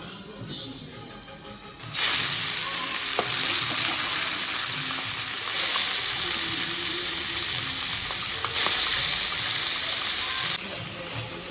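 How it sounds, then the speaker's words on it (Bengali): Fish frying in a pan in a home kitchen, a steady close sizzle that swells and holds for most of the stretch, with faint music playing from another room. "আর এই পাশে এই যে মাছটা ভেজে নিচ্ছি"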